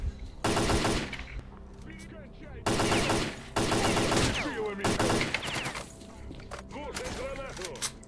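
Automatic weapons fire in the shooter game S.T.A.L.K.E.R.: Clear Sky, with loud bursts of rapid shots in several separate volleys and quieter stretches between them. Someone talks over the shooting.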